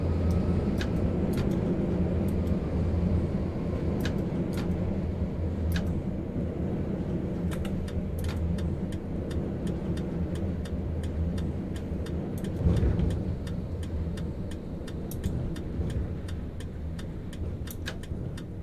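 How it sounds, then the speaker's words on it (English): Tram in the game Tram Sim rolling over points, a continuous low rumbling drone with a regular series of sharp clicks and clunks from the wheels crossing track joints, steady and fairly loud throughout. "All the clunking then when you go over the point work, really cool."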